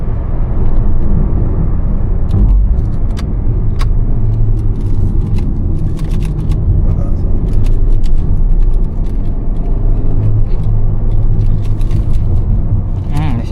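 A Hyundai Creta N Line N10 DCT in sport mode drives along, its engine note a steady, full rumble blended with road noise throughout.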